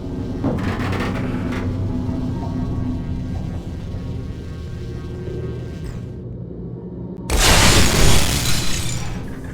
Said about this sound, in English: use it again to break the glass and destroy all the turrets